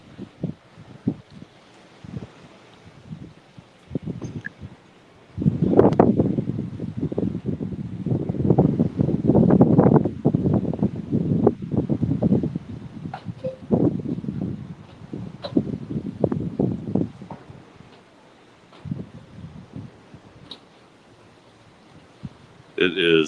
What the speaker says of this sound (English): the wind is really pushing us